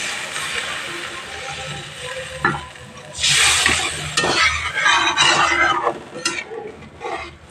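Water is poured into potatoes frying in a pan for rui fish curry, setting off a loud burst of hissing sizzle over a lower background sizzle, with some stirring clatter afterward.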